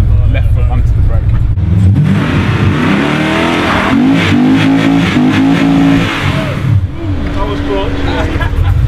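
A 700hp LT4-swapped Aston Martin V8 Vantage pulls away, its loud V8 roaring and climbing in pitch as it accelerates, with voices talking over the engine.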